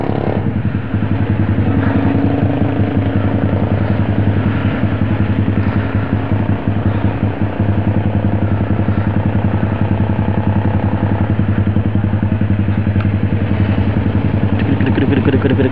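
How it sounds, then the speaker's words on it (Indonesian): A Yamaha MT-25 motorcycle idles steadily up close while stopped at a red light, its loud, continuous engine rumble carrying a fine rhythmic pulse that runs unbroken throughout. "mantep sih suara motor"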